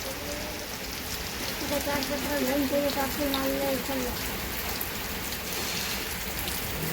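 Light rain patters steadily in the background in a village in Banaskantha, while a voice talks quietly for a few seconds in the middle.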